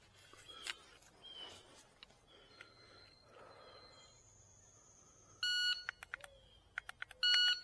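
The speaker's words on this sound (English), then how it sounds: "I'm getting there before the second beep" Electronic shot timer beeps during dry-fire pistol practice, a few sharp, short, high tones near the end over a quiet room with faint clicks.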